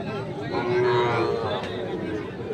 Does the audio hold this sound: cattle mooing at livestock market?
yes